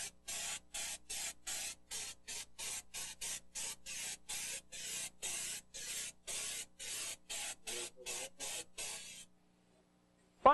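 Short bursts of spray paint hiss in a steady rhythm, about twenty quick pulses from an aerosol can spattering splatter paint onto a car trunk, close and fairly faint, ending in silence.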